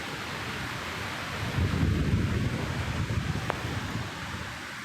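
A Nor'wester storm in a village brings steady wind and rain noise with a low rumble of thunder swelling midway, loud and close, with no voices.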